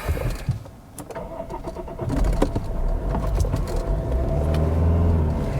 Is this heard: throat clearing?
no